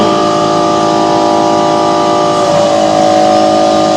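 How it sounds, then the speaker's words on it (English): A bus fitted with an air ride suspension system has its ignition switched on and its engine started, with a loud, steady motor hum and a shift in tone partway through. "That's the ignition being turned on. And the vehicle started."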